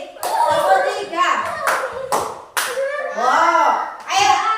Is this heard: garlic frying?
no